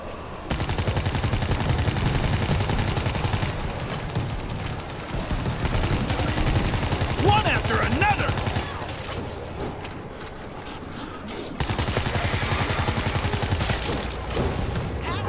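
Rapid bursts of video game gunfire from World War Z rattle continuously over a steady background hum, with short pauses between volleys.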